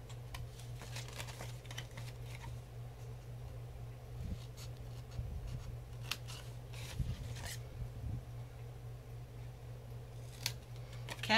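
Scissors snip the corners off a handmade card, giving a few quiet, crisp cuts and small rustles against a steady low hum. The sounds come close and soft, with no talking.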